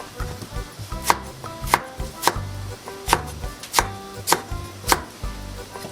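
Cucumber being sliced on a cutting board for a red sausage salad: a steady run of sharp knife chops, close and distinct, about ten strokes in quick rhythm with no talking.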